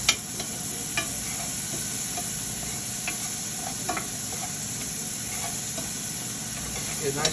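Meat for Hungarian goulash sizzles steadily in a hot pan while being stirred, with a constant frying hiss and occasional scraping clicks of the utensil against the bottom.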